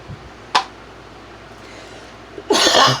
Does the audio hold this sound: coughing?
yes